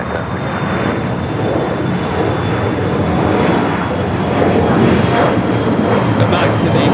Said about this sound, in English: Next takeoff here on the south side is Air Canada Flight 555